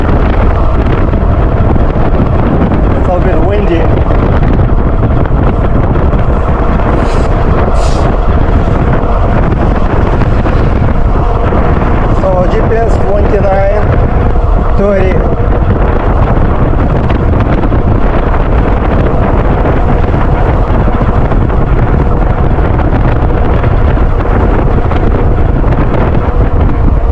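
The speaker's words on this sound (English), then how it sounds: "It's a little bit windy." Steady, heavy wind buffeting a microphone while riding a Motor Goat e-bike by Goat Power Bikes at about 25–28 mph along a street bike lane; a loud continuous low roar fills the whole stretch with no talking.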